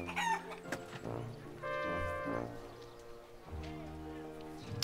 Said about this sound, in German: Dieses olle Huhn